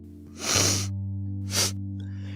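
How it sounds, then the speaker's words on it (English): Two sharp nasal sniffs, the first longer and louder, the second short, over a steady low electrical hum. "And then he heard sniffing in the dark."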